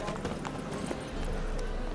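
Roach, a horse in The Witcher 3, gallops in a brief burst of quick hoof clip-clops under a low rumble, with a voice speaking over it.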